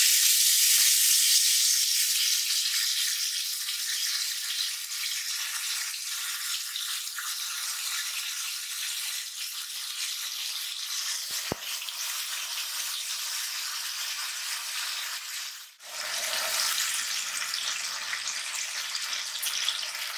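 Spices for a fish malai curry fry in oil with a loud, hissing sizzle that fades slowly, then a brief clatter and a fresh burst of sizzling near the end, with no voices.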